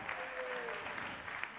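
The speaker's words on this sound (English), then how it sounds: "Give him a big cheer." Audience at a ventriloquist show claps steadily in a dense, continuous burst of applause, with a voice briefly audible over it.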